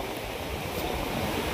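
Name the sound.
big sea waves during typhoon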